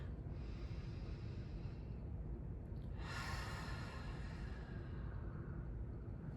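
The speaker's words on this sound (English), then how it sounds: "start breathing in through the nose, the slower you can have your breath" Slow, deep breathing in through the nose and out through the mouth, a long soft breath rising midway and fading, quiet and close over a steady background hiss.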